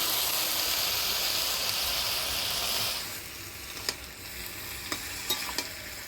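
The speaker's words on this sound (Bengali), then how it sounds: "বাটা মশলা দিয়ে ভালো করে নাড়াচাড়া করে নিলাম" Fish being stirred in a pan with a ground paste of garlic, chili and black cumin, a steady loud sizzle that drops lower midway, with a few sharp clinks of the spoon against the pan near the end.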